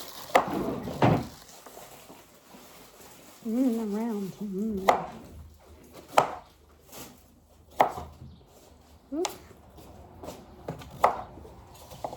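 Carrots being cut into rounds on a board for creamy carrot soup, with several sharp, spaced knife chops near and moderately loud, and a brief voice-like tonal sound partway through.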